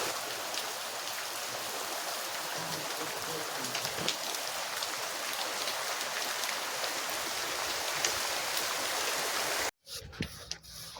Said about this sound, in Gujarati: જો ચાલુ થયો છે, જો દેખાય વરસાદ